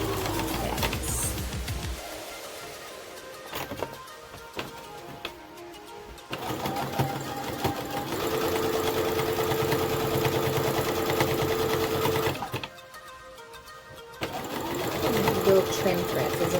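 Sewing machine stitching a duck bill filter face mask, running in several bursts with short pauses between them, sometimes close and loud, with brief quieter stretches and some talk.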